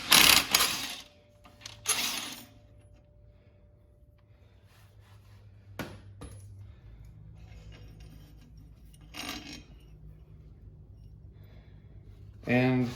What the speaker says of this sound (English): I'm just going to take it off with the impact tube.